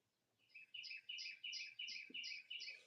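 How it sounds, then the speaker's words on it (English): Small birds chirp steadily outdoors in a rapid, repeating series of bright high tweets, fairly clear over a quiet background with faint low noise. "Y'all hear the birds?"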